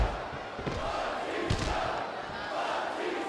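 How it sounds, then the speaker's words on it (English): Arena crowd noise from the WWE SmackDown vs. Raw 2008 video game during a tag team elimination match, a steady broad roar of fans cheering throughout with a few louder swells. "He's got this crowd solidly behind him"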